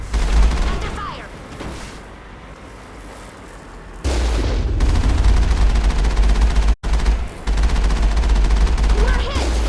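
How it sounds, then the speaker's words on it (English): Gunfire striking a ship in Mass Effect: heavy, sustained impacts and booming rumble, with a quieter lull before a louder barrage resumes, briefly cutting out once; a voice speaks over it. "Under fire. Taking hits. We're hit."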